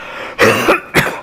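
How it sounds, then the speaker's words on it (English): A man coughs and clears his throat twice in quick succession, loud and close, with no talk around it. "Cough something up there, buddy."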